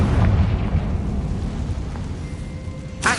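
Confringo explosive spell blasts from Hogwarts Legacy, cast in rapid succession during combat, give a dense booming rumble throughout and a sharp burst near the end.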